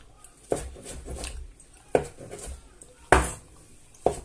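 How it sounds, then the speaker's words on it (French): Food is chopped coarsely into small pieces with a knife on a cutting board while preparing a zucchini and ground meat gratin: four sharp, close knocks spaced about a second apart, with faint low sounds in between. "on va le découper en petits morceaux. On va le hacher"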